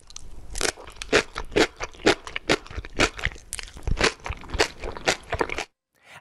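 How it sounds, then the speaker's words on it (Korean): Crisp, crunchy chewing of napa cabbage kimchi up close, a rapid run of loud bites and crunches that stops abruptly near the end. "아삭아삭하니 그 씹는 맛이 일품인 배추김치 1번이 정답이었습니다."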